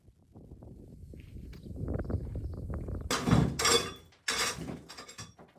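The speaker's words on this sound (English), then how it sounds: "Which started with some more scraping and then some acrobatic hammering." Hammering during floor renovation work: a run of dull knocks and thumps at a steady working rhythm, ending in a few sharp, bright strikes, close and moderately loud with no talk.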